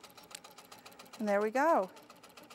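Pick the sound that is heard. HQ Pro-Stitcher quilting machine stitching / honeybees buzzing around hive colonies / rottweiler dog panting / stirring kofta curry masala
HQ Pro-Stitcher quilting machine stitching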